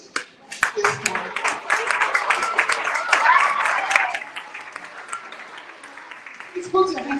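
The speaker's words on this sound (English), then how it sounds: "Another round of applause." Audience applause at a school debate and scholarship event, a sustained wash of many hands clapping that swells and then tapers off, with voices emerging near the end.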